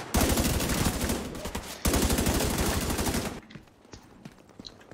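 Dense, loud gunfire from a firefight in The Division 2, rapid overlapping shots for about three and a half seconds, then cutting down to a quieter background with a few scattered sounds.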